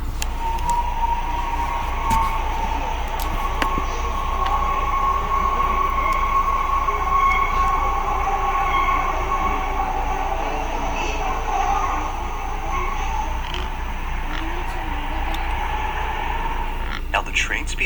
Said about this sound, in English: Trains always pass it, but they never stop here.